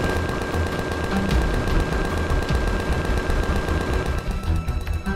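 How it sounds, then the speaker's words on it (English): Machine guns on a Lockheed P-38J Lightning aircraft fire in Empyrion Galactic Survival, a dense continuous rattle of rapid shots that stays loud and close before easing slightly near the end, with no voices. "Checking machine guns."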